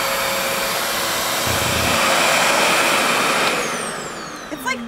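Hair dryer blowing on hair, one of a $500 and a $25 model being compared, a loud, steady whooshing roar that builds slightly and then fades, with brief clicks as it shuts off at the end.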